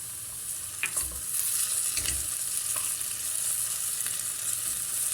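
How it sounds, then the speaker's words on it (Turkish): Onions and garlic with tomato paste frying in oil in a pan: a steady, close hiss of sizzling with a few soft stirring scrapes and clicks, no voices. "soğanları ve sarımsakları yağda birkaç dakika pişirdikten sonra üzerine salçayı alıyorum"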